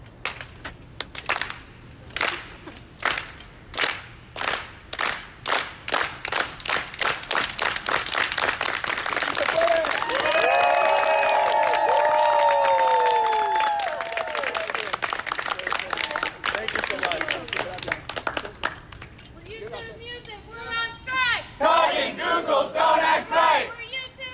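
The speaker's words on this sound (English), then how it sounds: "the Farm Worker Unity Clap. And so it's very simple. You just start slow and speed up and unite." A rally crowd at an Austin strike performs the Farm Worker Unity Clap: slow, evenly spaced claps quicken into rapid applause, joined by cheers and shouts, then settle back to scattered clapping.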